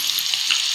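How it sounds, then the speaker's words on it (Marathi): Garlic being tempered in hot oil gives a steady, close, bright sizzle with no pauses and no talking over it. "आपण आता हे लसूण त्यामध्ये जरा फोडणी दिल्यासारखा टाकला"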